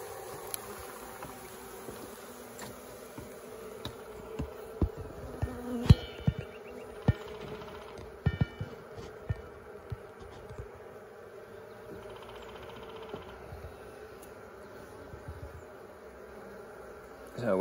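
Honeybees hum around a hive during swarm season in a low, continuous buzz, with scattered light knocks and taps from handling the hive equipment.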